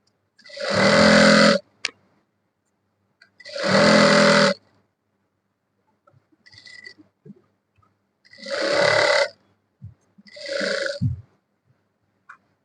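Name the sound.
sewing machine stitching three-quarter pants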